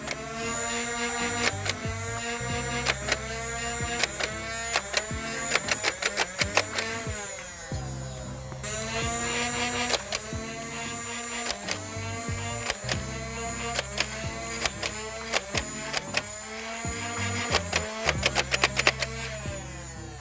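A Nerf Elite 2.0 Motoblitz flywheel blaster spins up with a rising electric whine, then fires foam darts in rapid bursts of sharp clicks, repeated in several cycles of spin-up and volleys, close and alone.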